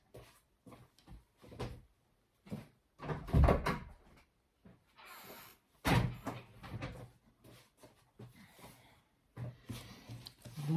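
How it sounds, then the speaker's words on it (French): A door in a home craft space is pulled shut with several knocks, scrapes and a firm thud of the latch, with bursts of nearby handling noise and brief pauses between. "Je vais fermer la porte pour éviter qu'on entende trop ma fille."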